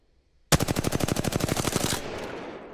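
Sustained automatic spray from the R-301 rifle in the shooter game Apex Legends: a loud, rapid burst of about twenty evenly spaced shots, ending abruptly with a fading tail.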